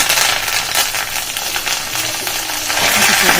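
Lentils and broken dried red chillies frying in hot oil for a tempering, a steady close crackling sizzle with some stirring scrapes, no talking.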